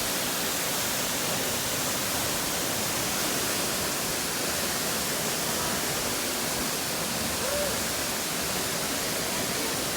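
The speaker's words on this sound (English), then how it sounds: "Horsetail Falls." Horsetail Falls, a waterfall in the Columbia River Gorge, roars as a steady, dense broadband rush that stays constant and loud throughout, close by, with no voices.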